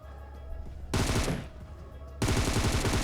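Automatic gunfire in the mobile shooter PUBG Mobile as a player pre-fires while pushing in, heard as two loud sustained rapid bursts separated by a short pause.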